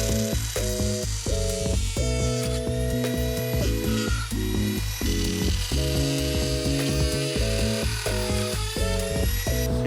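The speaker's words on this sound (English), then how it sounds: "let's power up the Dremel" A Dremel rotary tool grinds through a plastic Killerbody RC car body shell, a loud, continuous rasping whine with rhythmic stuttering pulses as the bit bites and eases off.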